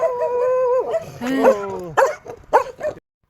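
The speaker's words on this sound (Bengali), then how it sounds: "কুকুরগুলো দেখেন কীভাবে ঘেউ ঘেউ করতেছে।" Five or six dogs in a Spanish village bark and howl loudly nearby, with long drawn howls breaking into sharp, separate barks before stopping abruptly.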